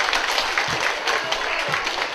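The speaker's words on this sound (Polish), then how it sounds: "brawa dla wszystkich, którzy tutaj dzisiaj ciężko tyrali" Brisk applause from an audience at a community meeting in Kielce, dense clapping filling the short stretch at close range.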